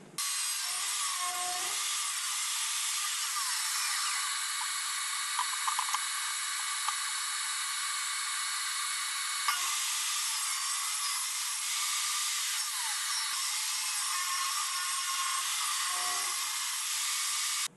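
A power tool trims the edges of a mulberry wood cutting board, a continuous high-pitched whine and grind held steadily for most of the time with brief dips in load.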